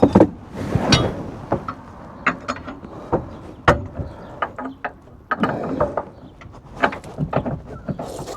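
A ratchet tightens U-bolts on the leaf springs of a Mk8 Ford Transit van, giving bursts of sharp, close metallic clicks in an uneven rhythm with short pauses between runs.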